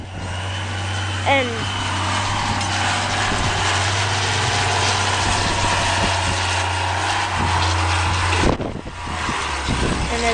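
Vehicle engine idling and backing up during snow clearing, with a steady low drone throughout and brief talk over it, plus wind noise in a blizzard.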